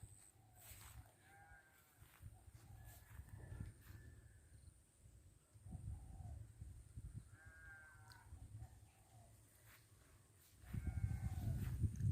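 Goats bleating on a rural hillside in the morning, several separate calls rising over a low rumbling background, with a louder, closer burst near the end.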